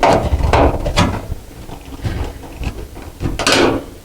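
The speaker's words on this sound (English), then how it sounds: "we're going to loosen up that screw right there" A screwdriver loosens the bottom hinge screw on a GE dryer door, producing close, uneven ratcheting creaks and a few sharp squeaky bursts as the screw turns against the metal.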